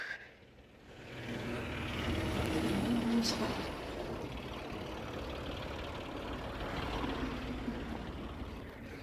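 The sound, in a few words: tractor engine left running at a gas station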